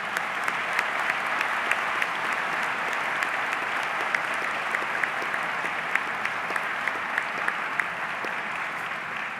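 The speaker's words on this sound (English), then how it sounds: "A round of applause from the students for those of you who turned this dream into a reality" Sustained audience applause fills a commencement ceremony hall, a dense, steady wash of many hands clapping at an even level throughout with no voices standing out.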